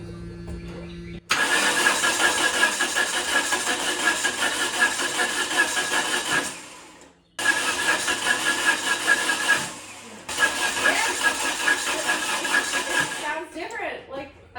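A Dodge Omni with a TBI fuel system cranks hard in three long, loud bursts, the starter grinding and the engine catching unevenly without settling into an idle; short pauses separate the attempts.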